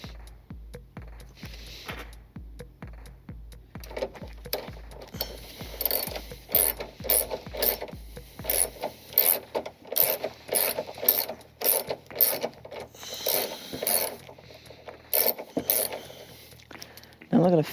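A ratchet loosens the middle bolt on a car horn bracket in repeated bursts of close, crisp clicking, with a steady low ticking running underneath for the first half.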